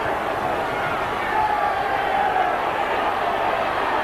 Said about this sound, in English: The crowd roaring them on.